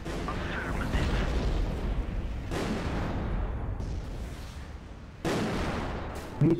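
Mortar fire on a refinery in the Empires Source mod game, several heavy booming blasts with rumbling decay, loud and close with no talk.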